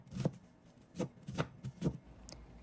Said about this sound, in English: I'm just going to go ahead and mince it up